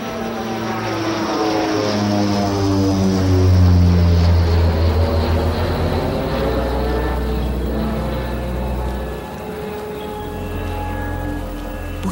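A propeller airplane drones past overhead, loud and steady, its engine pitch sliding downward as it passes, with no voices over it.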